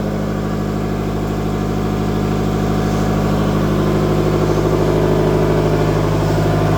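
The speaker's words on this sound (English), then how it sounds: "It's the reversing engine on this side." SS Explorer's steam reversing engine runs inside the ship's engine room, a loud, steady mechanical drone with a fast repetitive chugging pulse and a deep rumbling hum, continuous and close.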